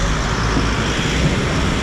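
Steady, loud street traffic rumbles along Avenida de Almeida Ribeiro in Macau, a dense continuous wash of passing vehicles with no distinct events or voices.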